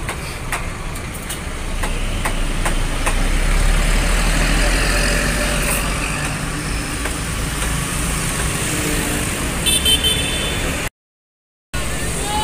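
A Sinar Jaya bus with an SR2 HD Prime body pulls away from the Lebak Bulus depot bound for Semarang, its heavy engine droning steadily up close before a sudden brief dropout.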